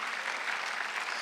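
A Korean church congregation applauds during a Sunday worship sermon, a short burst of many hands clapping in an even, continuous roar with no voices over it.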